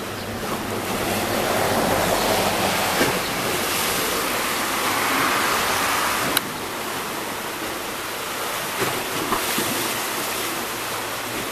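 Rain falls steadily outdoors, a dense, even hiss of drops that holds at a constant level throughout with no voices.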